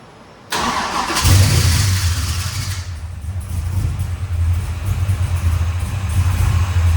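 A new LS engine in a 1971 Camaro cranks and fires abruptly, then settles into a loud, steady, low rumbling idle that runs on alone and close by.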